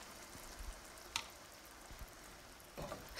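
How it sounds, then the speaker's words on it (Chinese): Beef shank and tendon being stir-fried in a wok with a little water added, a low steady sizzle under a few soft scraping strokes and clicks of the spatula, fairly quiet throughout. "继续翻炒均匀。"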